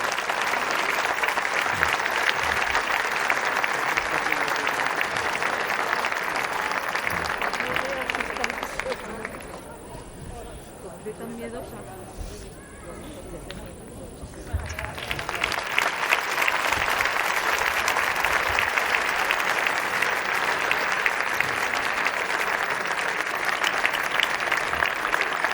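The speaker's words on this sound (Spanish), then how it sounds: "y un aplauso para ellos" Audience applause at a gala in San Mateo presenting the town's pregonera and zagalas as the mayor hands over a plaque; loud, sustained clapping from a large crowd fades briefly in the middle, then swells again and continues.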